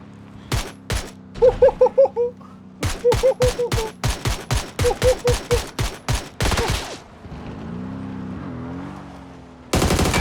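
Automatic gunfire in PUBG comes in a close, loud series of sharp shots, some single and some in rapid bursts, with a short engine-like rumble near the end and another burst of shots to finish.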